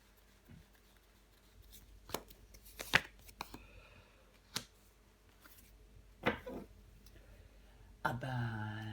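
Tarot cards laid down one by one and covered on a table, making soft, sparse slaps and crisp clicks with quiet pauses between them, followed by a brief shuffle near the end.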